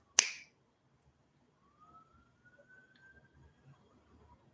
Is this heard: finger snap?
yes